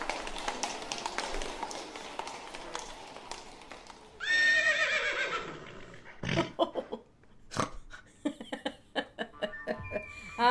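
Horse neighing: a loud, shrill whinny rises and falls for about two seconds midway, amid scattered hoof taps and clattering knocks before and after.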